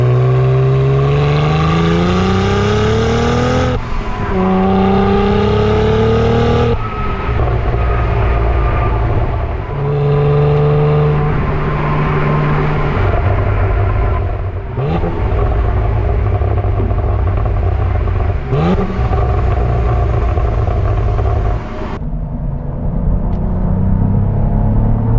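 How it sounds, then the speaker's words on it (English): Stock exhaust of a Cadillac CT4-V Blackwing V6 roars loudly and close through repeated hard accelerations, pitch climbing steadily with each gear before dropping at every shift, a continuous throaty rumble with no talking. "for a V6, the exhaust actually sounds pretty halfway decent. I really like the stock exhaust, and I'll let you guys hear that here in a second"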